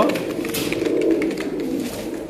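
Three pigeons, a black and a silver frillback (chuitail) among them, coo in close repeated low throaty calls, loud and alone with no talk.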